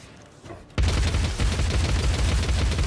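Quiet ambience gives way to an abrupt burst of heavy, sustained gunfire in Warhammer 40K Dark Heresy, a loud rapid volley of overlapping shots rolling on for about two seconds.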